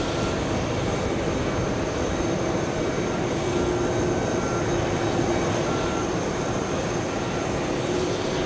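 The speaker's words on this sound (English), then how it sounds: "Oh, there goes the Delta Airlines" Delta Air Lines Airbus A330 departing JFK, a steady, loud broadband jet roar with no breaks, close and unchanging throughout.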